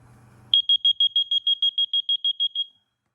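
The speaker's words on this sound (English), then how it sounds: "So, this is a water alarm right here." A water leak alarm gives a shrill, high electronic beeping after a brief quiet moment when its prongs touch water, repeating about fifteen rapid, evenly spaced pulses before stopping; close and loud.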